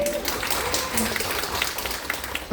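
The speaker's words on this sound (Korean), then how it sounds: "그래, 박수 한번." A small audience at a Korean business meeting claps in a moderate, somewhat uneven burst, with a few faint voices mixed in.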